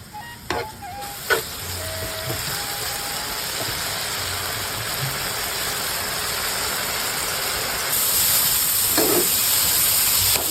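Water hyacinth frying with a little water in a pan while being stirred, a steady close hiss with a few scraping knocks early on and the sizzle growing louder toward the end.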